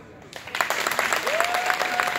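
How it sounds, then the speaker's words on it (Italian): Applause for Laura rises at an open-air silent fitness event in Crema's Campo di Marte, a brief burst of clapping from a nearby crowd with a sustained tone appearing partway through. "Vorrei fare un applauso a Laura."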